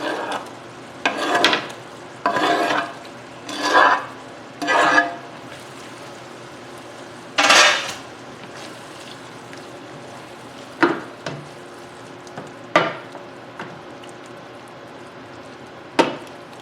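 Cubed, salted flathead catfish goes into a pan and cooks, heard as several loud bursts of sizzling and clattering early on, then quieter intermittent clicks and taps.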